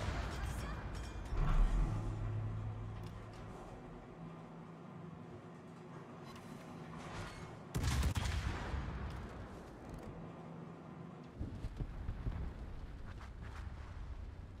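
Heavy naval gun salvos from the cruiser Moskva boom out in a naval battle game, a few deep, loud blasts separated by long rumbling stretches of battle noise, with a voice talking over it.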